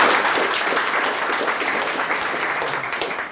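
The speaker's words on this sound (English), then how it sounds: "And an applause for the comment" Audience applause after a comment at a meetup talk, dense steady clapping that starts full and slowly tapers over a few seconds.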